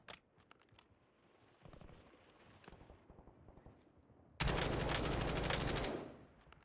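Call of Duty gunfire from a Kilo assault rifle, quiet scattered shots and footsteps, then one loud sustained burst of automatic fire lasting about two seconds near the end.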